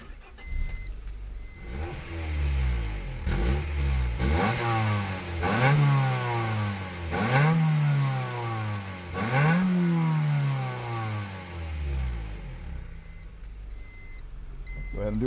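A 1999 Honda Civic Si EM1 with a B16 engine cranks and fires, then settles into idle broken by four or five sharp revs that rise and fall back, loud and close with no talk.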